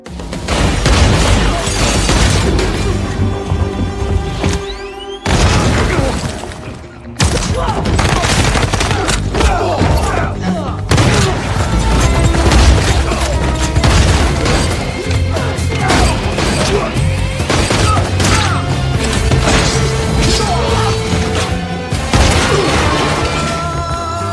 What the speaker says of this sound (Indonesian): Dan aksi saling tembak pun terjadi.